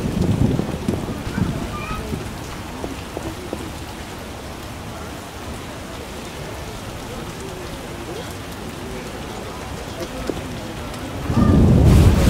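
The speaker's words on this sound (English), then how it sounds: "This rain. How strange!" Steady rain and thunder in The Witcher video game, a continuous wash of rainfall with deep rumbling swells at the start and again near the end.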